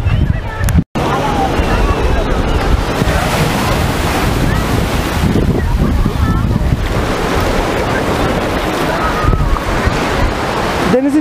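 Sea waves on Kaputaş beach in Turkey, a steady roar of surf mixed with heavy wind buffeting the microphone, loud and continuous for the whole stretch.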